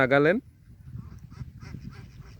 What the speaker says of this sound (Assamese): এয়া হাঁহবোৰে কি সুন্দৰকৈ সাঁতুৰিছে